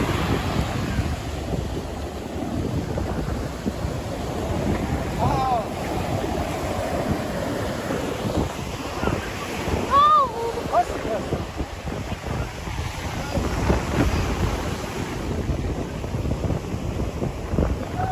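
Surf and wind at Laguna Beach, a steady broadband wash of breaking waves with gusty wind buffeting the microphone throughout, while faint voices and a few distant calls come and go in the background.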